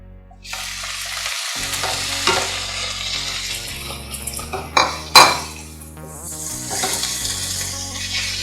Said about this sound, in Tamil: இந்த தக்காளி வந்து நல்லா வதங்கி குழஞ்சி வரணும், நல்லா வதக்கி விடணும் அது வரைக்கும்